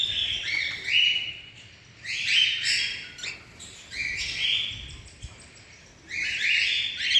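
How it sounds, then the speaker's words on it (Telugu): Caged breeding birds are fed by both parents while the chicks call in repeated bursts of high, rapid chirping, loud and close, separated by short quieter gaps. "చిక్స్కి ఫీడ్ చేసేటప్పుడు ఆ సౌండ్ వస్తుంది కదా"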